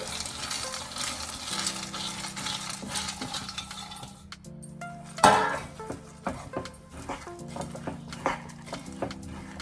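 Roasted peanuts stirred into hot jaggery syrup in a pot, with a spoon scraping and clinking against the metal in irregular bursts, close by and moderately loud, including one sharper knock midway.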